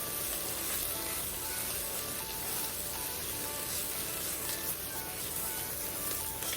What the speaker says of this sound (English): I'm gonna go ahead and add our garlic in. Let this cook down for a few seconds.